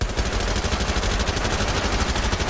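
Rapid automatic rifle fire in the Rainbow Six Siege shooter game, a continuous dense burst of evenly spaced shots at steady loudness, with no voices.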